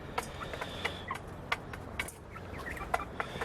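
Chickens kept in a straw-bedded backyard coop cluck and squawk in short scattered bursts, fairly close, with a steady low outdoor rumble underneath.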